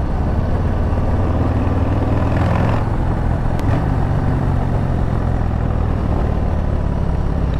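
A Harley-Davidson Low Rider ST 117 motorcycle pulling in fourth gear on a twisty road, its engine a loud, steady, deep rumble under heavy wind rush, close and continuous with a slight shift in pitch midway.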